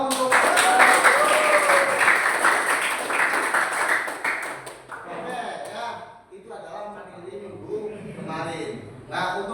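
Applause from a classroom of vocational high school students, a dense burst of clapping for the first several seconds that thins into scattered claps and murmuring voices toward the end.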